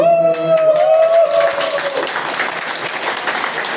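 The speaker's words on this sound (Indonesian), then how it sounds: "Kita kasih tepuk tangan yang meriah ya untuk tim senior pujian PPK Yesus." A church congregation gives loud, sustained applause for a senior worship team during an Imlek-themed Mass, with a brief musical tone fading beneath the clapping at the start.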